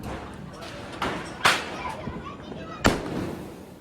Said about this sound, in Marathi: तर आता एक बॉम्ब फोडतोय सिंगल.